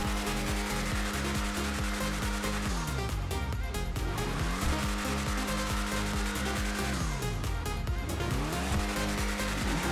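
A car engine in GTA Online revs hard and loud, climbing in pitch through repeated gear changes with two noticeable dips where the revs fall and then rise again.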